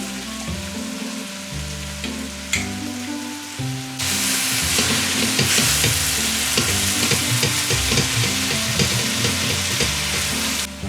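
Vegetables and chicken stir-fry in a pan with onion, garlic and seasoning sauce for home-style dakgalbi, a steady close sizzle with stirring scrapes that swells louder partway through and continues without talk.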